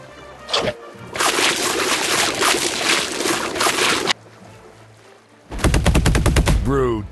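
Video game gunfire in Bowmasters: a sustained rapid burst of shots lasting about three seconds, then after a short lull another fast, loud volley, with nobody talking.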